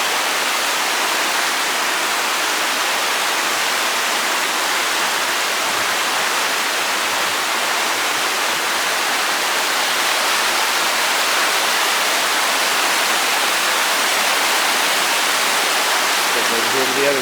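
The Oconaluftee River in the Great Smoky Mountains rushes in a steady, loud, broadband roar, unbroken throughout, like a close cascade of flowing water.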